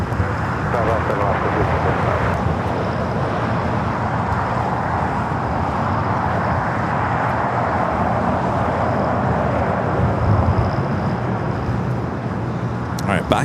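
A heavy Boeing Dreamliner departs LAX runway 25 Left, a steady, loud, broadband jet roar that holds level for the whole stretch with no clear rise or fade.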